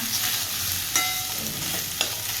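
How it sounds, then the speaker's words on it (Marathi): Cooked rice being stirred into a hot tempering in a wok, a steady near sizzle with a few soft scrapes of the spatula, no voices. "हे पहा इकडे भात टाकलाय फोडणीचा"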